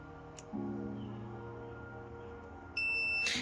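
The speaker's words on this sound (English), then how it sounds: "Now I just gotta check continuity on this corner pin right here." A multimeter's continuity tester sounds a steady high-pitched beep near the end as probes touch a wiring connector pin on a Mk4 Supra, following a low electrical hum; brief and close, with no talking.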